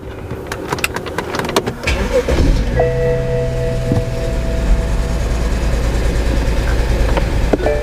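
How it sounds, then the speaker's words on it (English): A BMW car with a ZF 6HP-series six-speed automatic transmission starts up, a brief cranking burst followed by a steady, close idle hum, with faint mechanical clicks and whines over the running engine. "Start the car."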